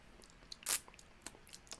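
A crisp, loud crunch as someone bites into a British military ration biscuit topped with a sweet fruit spread, followed by a few softer chewing crackles close to the microphone.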